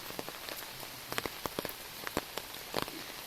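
Rain falling steadily on a garden of growing bottle gourd vines trained onto wire, with scattered sharper drops tapping close by against a constant soft hiss.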